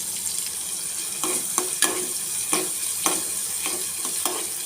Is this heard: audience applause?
no